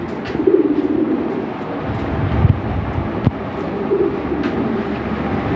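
Lahori Sirazi pigeons coo in soft, low, repeated murmurs within a busy, noisy background, with occasional brief knocks and no clear talk.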